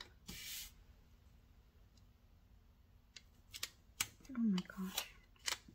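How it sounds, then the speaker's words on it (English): Scissors snip through planner paper in a few short crisp cuts, close by, after a brief exclamation from a woman. "Let me just cut off because I didn't cut it straight."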